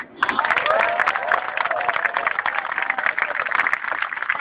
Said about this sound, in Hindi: अरे ताली क्यों मार रहे हो?